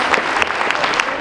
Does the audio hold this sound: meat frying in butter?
no